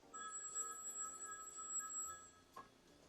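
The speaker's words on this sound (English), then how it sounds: "the phone rings." A telephone rings indoors, a faint steady electronic ring tone with a short sharp click near the end, heard alone with no talk.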